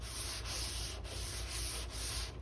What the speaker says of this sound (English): Crosshatch sanding.